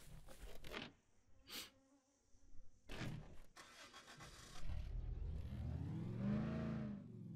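A car engine in the video game Dead Island starts and revs up, its droning whine rising and falling steadily, after several short bursts of buzzing noise.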